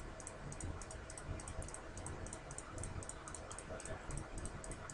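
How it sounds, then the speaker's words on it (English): A computer mouse clicks repeatedly while a curve is drawn on a sphere in Maya, a faint run of small sharp clicks at an uneven pace over quiet background noise. "I'm just going to start clicking around on this sphere."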